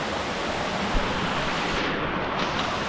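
Waterfall in the Iguaçu forest reserve, heard from the top of the falls as a constant, loud, broadband roar of rushing water with no break.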